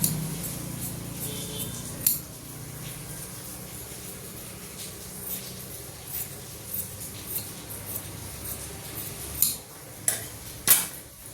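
Scissors snipping through cloth while cutting the back piece of a 37-inch chest blouse in the cross-cutting style: a few sharp, close snips spaced apart, with the clearest cuts coming near the end over a quiet room background.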